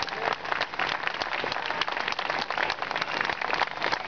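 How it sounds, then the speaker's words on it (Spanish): An audience applauds a jazz quintet at the close of a jazz festival, with a steady, dense wash of clapping that holds at an even level for the whole stretch. "despedimos con un fuerte aplauso a Rodrigo Gabriel Quinteto"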